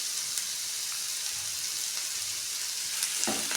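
Garlic, ginger and curry leaves sizzle steadily in hot oil in a pan, a dense close crackle that holds even throughout, with a brief stir near the end and no talking.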